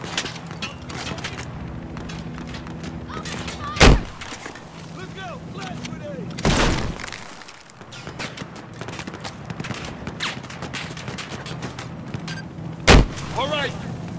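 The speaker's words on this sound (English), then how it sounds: "Flash grenade!" A flash grenade in the video game Battlefield 4 goes off as a sharp loud bang, set among other distant blasts and shots over rumbling battle noise with occasional voices.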